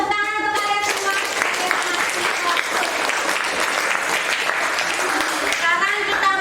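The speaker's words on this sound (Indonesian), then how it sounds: "tepuk tangan untuk kalian semua" A school class claps together in a dense, steady round of applause that lasts the whole time, with a voice heard briefly at the start and end.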